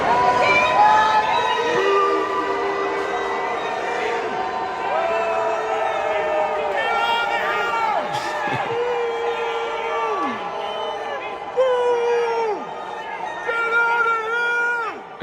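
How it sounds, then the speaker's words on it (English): Crowd booing J.D. Vance in Washington, D.C., with sustained jeering and shouted voices rising and falling over a busy hubbub of chatter, one person near the front calling out repeatedly. "this first clip of J.D. Vance getting booed"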